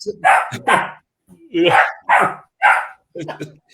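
A beagle barks in a quick series of sharp, close yips and bow-wows, about six bursts over a few seconds with brief pauses between them, clear and fairly loud.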